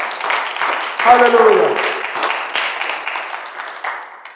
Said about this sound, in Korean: 우리 하나님 앞에 우리 박수로 하나님 감사합니다